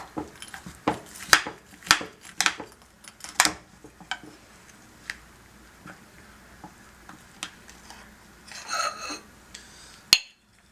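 Slice of maple-syrup-sweetened apple crisp being cut and served onto a plate, with a series of close, sharp utensil taps and clinks against a dish, spaced irregularly, then a brief scraping rustle and a final crisp clink.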